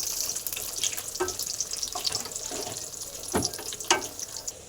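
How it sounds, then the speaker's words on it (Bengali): Cashews and raisins fry in white oil with a soft, continuous sizzle and faint crackle, with occasional light clicks of stirring. "কাজু কিশমিশটা হালকা করে ভাজবো"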